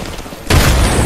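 Frag grenade detonating in the video game Apex Legends: a sudden loud, deep boom that swells and rumbles on after a quieter lead-in.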